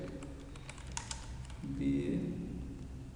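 Java code being typed on a computer keyboard, a quick run of light key clicks that fades as a voice starts speaking over it.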